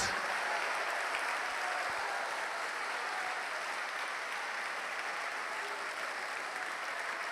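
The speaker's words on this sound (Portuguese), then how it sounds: "Aplauda, aplauda, aplauda, glorifica o teu Deus." A church congregation applauding during a worship service, steady continuous clapping from a crowd that holds faint and distant throughout without letting up.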